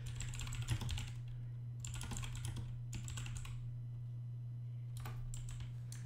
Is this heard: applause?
no